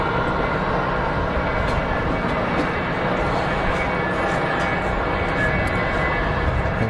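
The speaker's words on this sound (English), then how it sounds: "That's a nice looking aircraft too." An aircraft at Geneva Airport makes a loud, continuous broadband engine roar, steady and fairly near for several seconds, with no clear talk.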